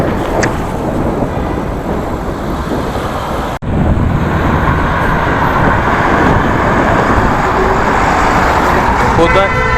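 Busy city traffic in a congested street in China: a continuous loud roar of cars and engines, with a sharp break midway and horn toots sounding near the end.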